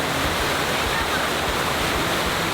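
Park fountains splashing water send up a dense, steady rush of spray that stays loud and unbroken throughout.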